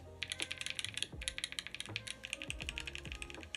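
Fast typing on a rebuilt Sangeo 65 mechanical keyboard produces a close, rapid run of sharp clacky keystrokes with uneven rhythm and a few louder thocks, with no voice.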